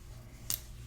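A single short snip of scissors cutting paper pockets for a tag album, quiet and close against a low background hum.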